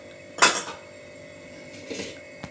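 A kadai clanks down onto a stove with a sharp metallic clatter, followed by a softer scrape and a light tap, close by in a quiet kitchen.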